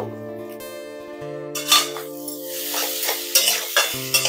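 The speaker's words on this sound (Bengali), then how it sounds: "মশলার সাথে আলুটাকে ভালো করে নেড়ে নিতে হবে" Boiled potato filling stirred with turmeric, salt and spices in a pan for stuffed bread, scraping and clinking spoon strokes over a light sizzle, starting after a stretch of sustained musical tones and continuing with uneven knocks.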